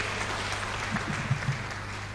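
Audience at a church parish service clapping, a fairly faint, steady patter of applause with a low hum underneath.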